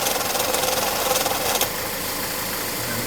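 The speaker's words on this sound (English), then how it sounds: "That compressor clutch is shot." A failing AC compressor clutch in a Chevrolet Malibu engine bay gives off a rhythmic knocking rattle over the running engine, then the clatter cuts out partway through and leaves a steadier idle drone.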